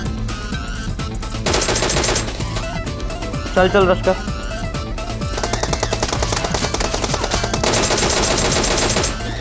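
Bursts of rapid automatic gunfire from a battle royale video game come and go across the clip, loud and close, with excited voices talking over them.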